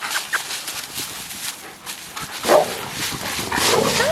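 Outdoors in a cottage garden, a puppy lets out repeated yappy barks and whimpers at middling distance, rising louder toward the end over a constant rustling background.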